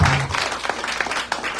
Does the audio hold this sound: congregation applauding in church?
yes